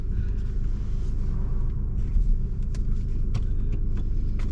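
A 2024 Peugeot 3008 GT drives steadily with a constant low engine rumble and road noise throughout, no voices heard.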